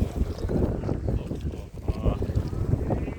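Strong wind blows by the sea on the way to Bet Dwarka, heard as a loud, continuous low rumble and buffeting against the microphone that never lets up.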